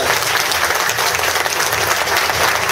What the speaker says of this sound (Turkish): Ben o arkadaşlara da şöyle güçlü bir alkış istiyorum sizlerden